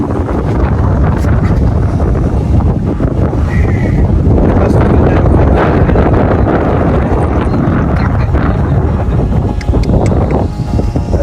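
Strong wind buffets the microphone in a constant loud rumble and roar, with a voice partly audible underneath.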